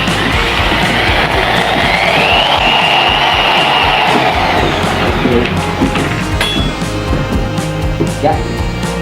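A mixing machine stirs a batch at a training session, its steady loud motor whir with a rising and falling tone running throughout, a few clanks near the end.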